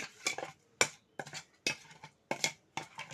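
Raw mango pieces mixed with two ladles of hot oil in a bowl, heard as a series of separate clinks and scraping strokes of a utensil against the bowl, close and fairly quiet, with silence between.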